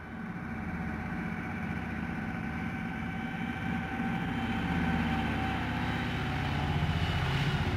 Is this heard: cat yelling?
no